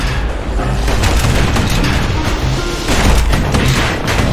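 Guns fire from a security skiff in the action game Bastion, producing a dense, continuous barrage of loud booms and crashing impacts up close.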